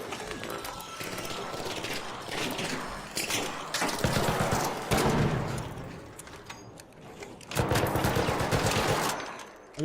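Repeated automatic gunfire in the extraction shooter Arc Raiders, loud sustained bursts with short pauses between volleys and mechanical clatter, mostly without talk.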